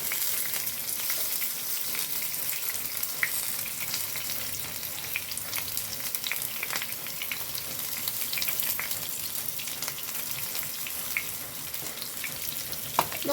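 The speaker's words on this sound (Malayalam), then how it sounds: "ആദ്യം ചെറിയ ഉള്ളിയാണ് ഇട്ട് കൊടുക്കുന്നത് വറുക്കാൻ പിന്നെ കുരുമുളക് ഇടുന്നു ഇട്ട് കൊടുക്കുന്നുണ്ട് ഉലുവി ഇട്ട് കൊടുക്കുന്നുണ്ട്" Shallots, black pepper and fenugreek seeds fry in hot oil in a pan, giving a steady, close crackling sizzle with scattered sharp pops and faint stirring scrapes throughout.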